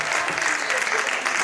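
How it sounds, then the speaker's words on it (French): Packed hall at an International Women's Day gathering in Compiègne erupting into a burst of applause, thick continuous clapping with a hint of voices underneath. "Un grand applaudissement du tout."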